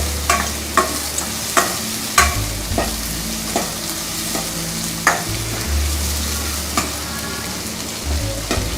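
Steady frying sizzle of small onions in a pan with repeated scraping stir strokes from a utensil, close and continuous, no voices.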